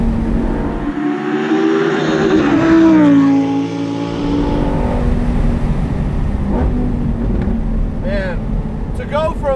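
A Lamborghini Performante Spyder's engine revs and accelerates with a rising, then falling roar and a sharp single-clutch gearshift kick, while someone talks over it throughout.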